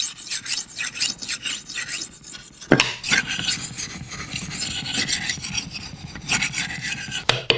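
A knife being sharpened on a 3000 grit whetstone gives close, repeated gritty scraping strokes in an uneven rhythm, fairly loud and with no one talking.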